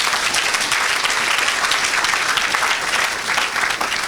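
Congregation at a French-speaking church service applauding for Jesus Christ, a dense, steady wall of clapping from a large crowd lasting throughout without letup.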